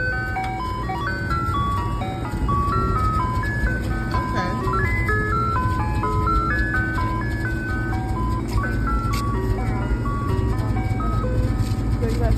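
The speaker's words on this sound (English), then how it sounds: "the ice cream truck pulled up" An ice cream truck's jingle plays its tinkling melody on repeat over a low idling engine rumble as the truck pulls up at a house near Pensacola. A voice is also audible.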